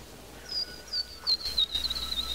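A person imitates birds with a series of high, whistled chirps, several short calls then a longer warbling run, fairly close over a quiet room background.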